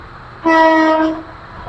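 Korotoa Express train horn at Lalmonirhat railway station, one long steady harmonic blast lasting under a second, loud and fairly close over a low rumbling background.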